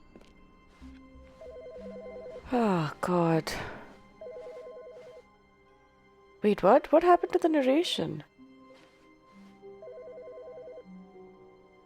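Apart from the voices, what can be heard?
telephone ringing in video game The Stanley Parable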